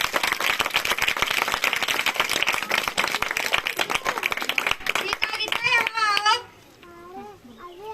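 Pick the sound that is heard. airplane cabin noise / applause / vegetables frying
applause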